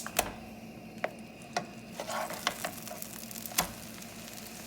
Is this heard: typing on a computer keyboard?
no